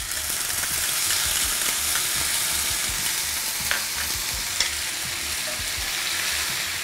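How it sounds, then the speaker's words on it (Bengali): Bay leaf and spice paste for Kolkata chicken biryani fry in hot oil, producing a dense, steady crackling sizzle close by, with a few soft knocks of stirring. "তেলটা ভালো গরম হয়ে গেছে, তেজপাতা দিলাম। এবারে যে পেস্টটা আপনাদের বলেছিলাম ওই পেস্টটা দিয়ে দিলাম।"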